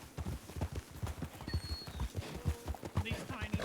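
Hooves of small donkeys clip-clop in a steady rapid rhythm in a Red Dead Wild West game, close and clear, with a faint whinny and people talking over them.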